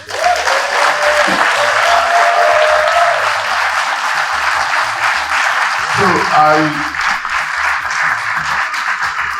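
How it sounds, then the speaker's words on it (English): Sustained applause from a large audience at an Igbo community award ceremony in New Zealand fills the room, steady and loud throughout, with a voice briefly speaking over it. "I want us to give her another round of applause."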